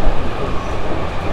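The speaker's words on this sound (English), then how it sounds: "Look at that, the train." Train passing in Tokyo, Japan, a close, loud, continuous rumble of wheels and cars rolling by, heard alone without voices.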